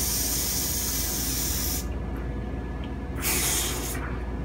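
Insecticide sprays in short pressurized hissing bursts through a straw tip into cracks and crevices where roaches hide, a long loud hiss, a pause, then a second shorter burst; no talking.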